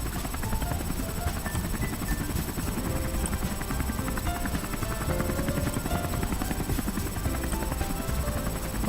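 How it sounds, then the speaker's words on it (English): A helicopter hovers in the background of a Doki Doki: Within visual novel mod, giving a steady, continuous low rotor drone and buzz that runs throughout at a moderate level beneath faint tones. "hear the helicopter hovering back in the background, or not that much loud."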